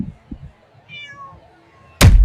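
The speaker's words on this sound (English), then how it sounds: "What a cute kitten." A kitten gives a single thin, rising meow at moderate distance, followed by a sudden loud burst of noise, with faint talking beforehand.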